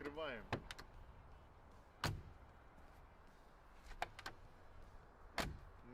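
On a 6x6 G-Wagon built from a rusty 1995 G300, the rear door gets worked open in several sharp metallic clicks and clunks, spread apart and close-by against a quiet background.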